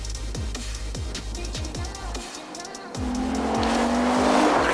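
An Alfa Romeo 147 GTA with its 3.2-litre Busso V6 revs hard through rapid upshifts at speed, a loud rising engine howl with sharp gear changes close by and no talk.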